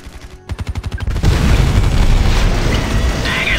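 Gunfire and booms in the Art of War 3 strategy game, starting with a rapid regular burst of shots followed by dense, continuous loud blasts and rumbling explosions.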